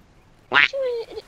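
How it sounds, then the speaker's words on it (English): A duck in the video game ARK: Survival Evolved gives one short, loud, nasal quack, preceded by a brief bright burst of sound. It is close and stands clear of the quiet background. "It's a duck!"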